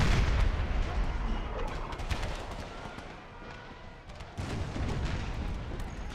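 Battle din from Empire: Total War with a Brothers vs. Brothers mod, continuous rumbling artillery and crackling musket volleys, some sharp reports standing out over a dense, distant roar.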